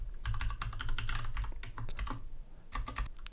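Typing code on a computer keyboard: rapid, irregular clusters of close key clicks and taps with a short pause before a final burst of keystrokes, with no talk.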